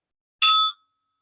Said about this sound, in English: I'll ring a bell to mark the start and the end of our 30 seconds of silence